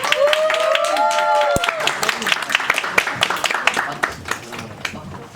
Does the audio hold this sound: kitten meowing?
no